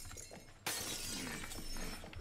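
Glass smashes suddenly in the video game Hello Neighbor 2, a loud, bright crash followed by a sustained scatter of tinkling shards that rings on for over a second.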